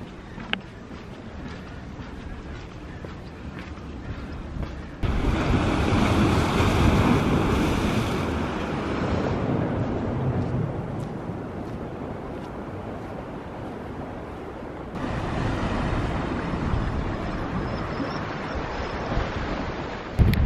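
Surf rolling onto the beach at Sandbanks, a steady wash of breaking waves with a heavier surge in the middle, buffeted by wind noise on the microphone and no talk.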